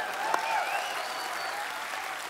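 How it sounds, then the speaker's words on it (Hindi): Studio audience on a Hindi comedy show applauds in a steady, moderately loud wash of clapping, with one brief sharp sound near the start and faint tonal sound behind it. "जोरदार तालियां"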